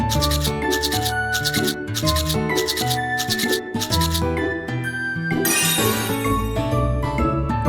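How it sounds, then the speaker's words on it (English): Brisk, rhythmic toothbrush scrubbing strokes for a children's cartoon, repeating in short even bursts over a loud, bright musical backing, with a sparkly flourish near the end. "Brush the teeth up and down."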